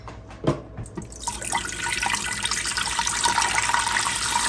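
Broth pours into a pot for white chicken chili, a few clinks and knocks at first, then a steady splashing stream of liquid that grows fuller and continues close by.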